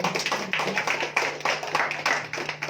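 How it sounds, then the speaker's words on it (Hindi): A church congregation claps to thank Jesus, a quick run of fairly faint, steady hand claps with no one speaking over them. "आइए ताली बजाकर यीशु का धन्यवाद करेंगे।"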